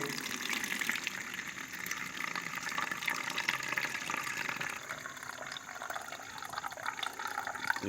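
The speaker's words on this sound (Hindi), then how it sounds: "इसको जी इस तरह से कपड़े को हम डबल करके इसके अंदर इसको छान लेंगे।" Grape vinegar is poured and strained through a doubled cloth, making a continuous, gentle trickling and splashing of liquid with soft drips.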